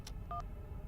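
A few short electronic dialing tones, beeping one after another over a low background hum with no speech.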